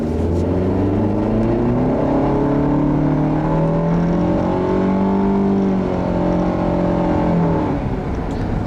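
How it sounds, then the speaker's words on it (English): A 2015 Nissan Rogue SL with a CVT revving hard under full acceleration, a loud, steady interior engine drone whose pitch climbs and holds high, with no talking. "when I put my foot down, I'm definitely noticing that the CVT instantly pushes the revs up to help this car accelerate"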